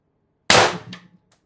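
A single sharp report from a Mercury Rise IntruBuster Gen 2 air gun tethered to an 800 psi tank, loud and close, with a quick decaying tail and a faint click afterward.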